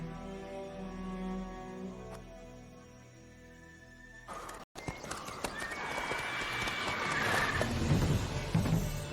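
Hoofbeats of Roach, the horse in The Witcher 3, gallop steadily and close up in a game scene, with a brief quieter stretch before the pounding rhythm picks up and carries on to the end.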